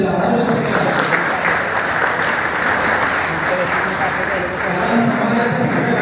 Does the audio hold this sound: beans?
no